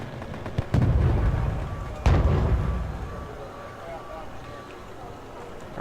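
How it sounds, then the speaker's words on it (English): Artillery fire during a video game battle: two heavy blasts a little over a second apart, each followed by a long rumbling tail, with a busy combat soundscape and speech present underneath. "Artillery's still flying around."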